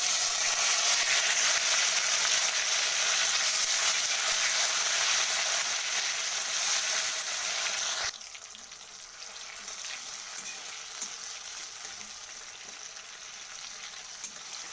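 Chopped tomatoes frying in hot oil with dry chilli, black cumin and cloves for paneer masala curry, giving a loud, bright continuous sizzle that drops abruptly to a quieter crackle partway through, close and with no speech.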